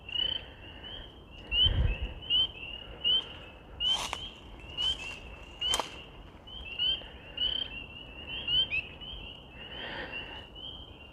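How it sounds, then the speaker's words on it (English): Frogs croak and trill steadily in the distance, a faint layered chorus with intermittent louder calls over a soft outdoor background. "I don't know if you can hear that, but those are frogs"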